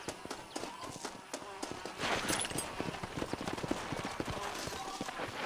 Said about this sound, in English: Por que esse cavalo tá muito doido?